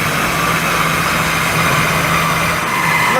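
The air-cooled engine of a Citroen 2CV runs on a dyno with a loud, steady, buzzing drone that holds constant without pauses.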